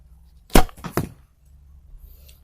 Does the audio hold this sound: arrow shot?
yes